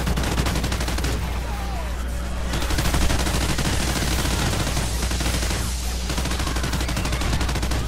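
Gunfire from a Call of Duty: Ghosts match, a steady dense barrage of shots rattling continuously over a constant low hum, with faint talk underneath.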